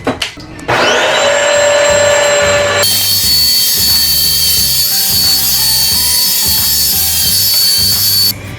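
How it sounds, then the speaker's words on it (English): A Bissell CrossWave floor cleaner starts with a rising whine, then runs loud and close with a steady high-pitched motor hum and rhythmic brushroll churning on a hard floor before cutting off at the end. "I'm going to put this on the ground, turn it on, suck it up."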